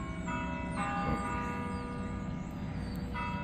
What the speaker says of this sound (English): The church bell down the way here.